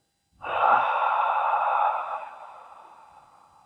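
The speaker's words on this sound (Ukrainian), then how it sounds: "Спокійний вдих через ніс і смачний видих через рот." Calm breathing during a pranayama meditation practice: a single long, steady breath alone, beginning with a soft nasal intake and drawing out into a smooth exhale that fades slowly at the end.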